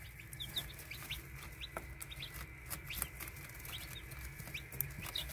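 Three-day-old chicks peep in quick, high, scattered chirps over a steady low background hum, several birds close by calling repeatedly and overlapping, with no talking.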